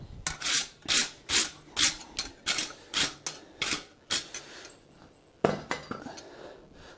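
Repeated harsh scraping strokes of a wire brush on a forged steel pine tree hook, about a dozen rhythmic rasps close up, with a brief pause near the end.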